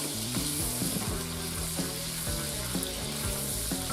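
Constant loud sizzle of asparagus frying in a pan of shrimp pasta sauce, with stirring and faint scraping under the dense crackle, no talk.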